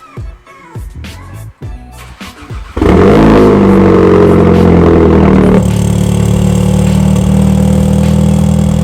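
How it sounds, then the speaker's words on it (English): A Volkswagen Golf R starts and warms up, a few clicks and rustles before the engine catches, then a steady loud idle hum that settles slightly lower after a few seconds. "I'm in the car warming it up right now just so I can go for a little drive."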